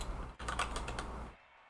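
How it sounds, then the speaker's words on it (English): Quick burst of typing on a computer keyboard, a dense run of close, crisp clicks lasting about a second before stopping, with steady low hum behind it during a Scrap Mechanic building session. "Typing too fast."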